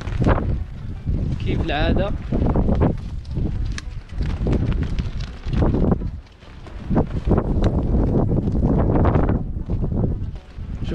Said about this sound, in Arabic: الرياح